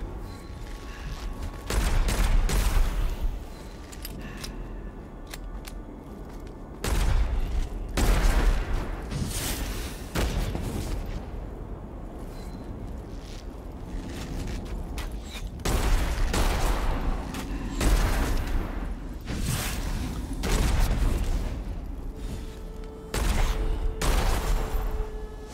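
Gunfire from a machine gun in the first-person shooter roguelike Witchfire, coming in repeated loud bursts of rapid shots, separated by short pauses and quieter stretches.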